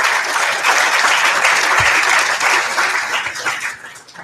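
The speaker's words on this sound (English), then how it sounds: "So one more round of applause for our academic all-district nominees." An audience at a men's soccer awards reception applauds in a dense, steady burst of clapping, close and fairly loud, fading slightly at the end.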